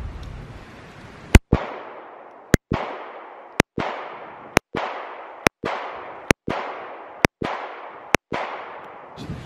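Smith & Wesson M&P Shield pistol fired at a target on a range: nine sharp, loud, evenly spaced shots about one second apart, each followed by a short ringing decay, with no talking.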